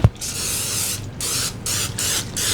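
Cooking spray hisses onto a standard 9x13 cake pan in several short close bursts, each a few tenths of a second, with a click at the start.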